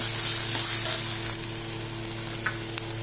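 Ginger garlic paste and curry leaves sauté in hot oil, giving a close, steady sizzle over a low background hum, with a louder burst at the start and a few faint utensil touches afterward.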